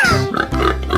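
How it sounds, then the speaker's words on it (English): A cartoon pig oinks and grunts in a 3D animal video game, a single loud close snorting call lasting about a second, alone with no talk. "pig,"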